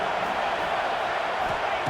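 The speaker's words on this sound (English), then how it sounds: "3rd down, and the crowd really getting into it." Stadium crowd roaring steadily at a third-down moment of a Clemson vs South Carolina game in College Football 26, a dense, continuous wash of cheering at even loudness throughout.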